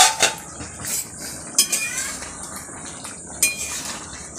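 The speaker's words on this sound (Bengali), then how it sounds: "2 মিনিট হয়ে গেছে, ঢাকাটা এবার খুলে দেবো।" A metal lid comes off a pot of egg and masoor dal, giving sharp clinks and knocks. Three distinct metallic hits stand out against a quiet kitchen background.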